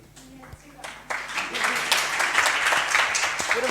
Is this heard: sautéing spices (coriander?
no